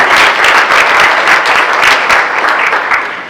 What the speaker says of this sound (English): So if we could just give a round of applause for all of these.